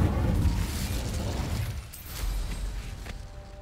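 Incendio fire spell cast in Hogwarts Legacy: a loud, rushing burst of fiery noise that fades over a couple of seconds, followed by quieter game ambience with faint crackles.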